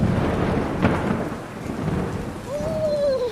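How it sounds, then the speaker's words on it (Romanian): A thunderstorm in the middle of the day, with steady heavy rain and low rumbling thunder that swells and fades. A faint rising whistle-like tone appears near the end. "Nu-mi plac deloc furtunile astea care se iscă așa în plină zi."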